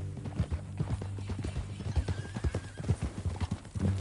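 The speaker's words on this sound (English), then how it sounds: "That a new horse?" Horse hooves clip-clop at a steady walking pace on hard ground, close and clear across the whole stretch, with a brief whinny-like tone midway and faint ambient background, in a Western ranch scene.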